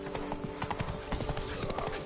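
Roach, the horse from The Witcher 3, gallops with rapid, rhythmic hoof clops close by, a faint whinny mixed under the hoofbeats.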